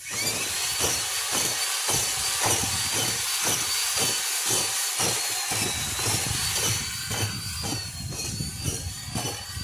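An electric drill whirs steadily with rhythmic rattling thumps as black walnuts tumble and knock around, continuous for several seconds with no talking.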